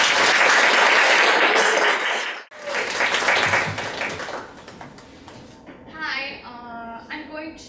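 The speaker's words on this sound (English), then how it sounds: "Let's give a big round of applause." Audience applause at a Toastmasters joint meeting in Seoul, loud close clapping for about two seconds, a short break, then fading applause that gives way to a speaker talking.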